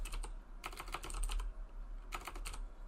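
Bursts of quick clattering keystrokes on a computer keyboard come in two clusters with a short pause between, close and moderately loud over faint room hum.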